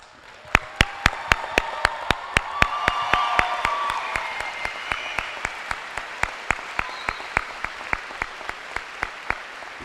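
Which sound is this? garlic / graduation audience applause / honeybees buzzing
graduation audience applause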